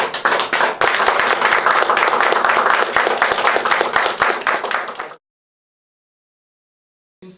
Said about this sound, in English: with a big round of applause, please invite Mr. Satyajit Mishra on the stage